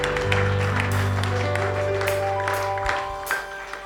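A church congregation applauds, a steady spatter of clapping over a sustained low organ or keyboard chord that fades out near the end, with scattered voices mixed in.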